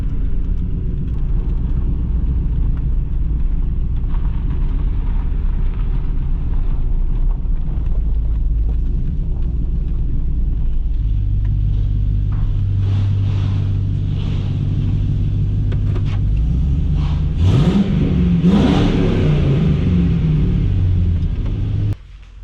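An LS-swapped Chevrolet S10 Xtreme drives with a loud, close, continuous rumble, its engine note climbing as it revs near the end amid wind noise, with no talking.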